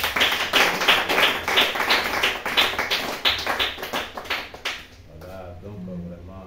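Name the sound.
church congregation applauding the Lord Jesus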